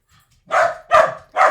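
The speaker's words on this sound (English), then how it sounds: "You may hear some barking from my puppers" Dogs bark indoors in three sharp, loud barks spaced roughly half a second apart, close to the listener, with no talking.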